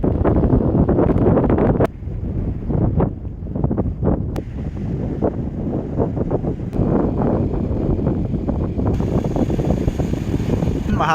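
Strong wind buffets the microphone at Bangol Beach, a steady roaring rumble that drops briefly then continues unbroken, with faint surf-like noise beneath.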